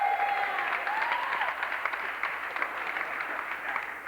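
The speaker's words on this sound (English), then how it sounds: "A round of applause." An audience claps steadily at a 1987 under-30 basketball championship game ceremony, making a continuous, moderately loud wash of applause that fades slightly toward the end.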